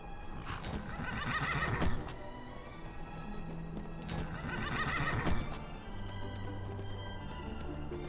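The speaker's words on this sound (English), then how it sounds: "She can also ride horse when you mount on your horsey." Horses in Skyrim whinny twice with loud, prominent neighs over steady clip-clopping hooves, set against game ambience and music.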